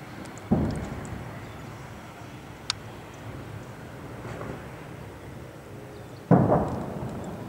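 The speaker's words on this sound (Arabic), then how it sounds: "قصف عنيف على منطقة ريما" Shelling from warplanes on the town of Yabroud in the Qalamoun mountains: two heavy, booming explosions several seconds apart, with a sharp crack between them and a low rumble throughout, heard at a distance.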